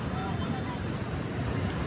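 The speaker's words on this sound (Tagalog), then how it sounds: "Mga alon humahampas sa dagat sa dalampasigan." Sea waves on a beach shore, a dense, steady wash of surf mixed with heavy wind rumble against the microphone, close and continuous; a voice is faintly present underneath.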